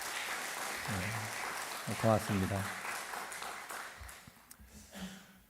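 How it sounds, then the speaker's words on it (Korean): Church congregation applauding after an Easter hymn, a steady wash of clapping running through the clip beneath a voice speaking and briefly singing over it. "우리 박수 한번 다시 한번 쳐주시죠"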